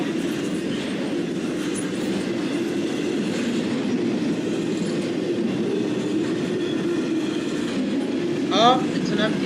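A freight train with flatbed cars rolls steadily along the rails, giving a continuous rumbling clatter at moderate distance, with a brief squeal near the end.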